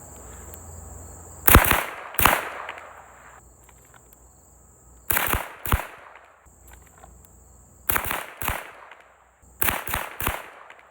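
Rapid rifle gunshots from a CMMG Bravo 22 conversion kit fired outdoors, in four bursts of two or three sharp, loud cracks with short echoing tails, crickets chirping steadily between them.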